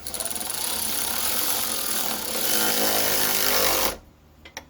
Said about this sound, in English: Like you hear it hammering there.